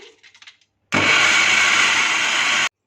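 A blender jug grinds soaked moong dal in one loud, continuous roar. It starts abruptly after a brief quiet stretch and stops sharply about two seconds later.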